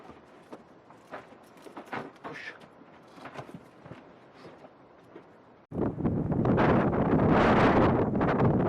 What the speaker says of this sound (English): It's super windy. So strong.